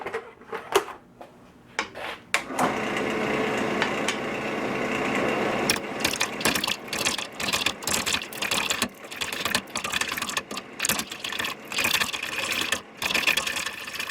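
A wood lathe runs at slow speed while a bowl gouge cuts a food-safe salad bowl, a steady motor hum broken by repeated choppy, rattling cutting bursts, close and fairly loud.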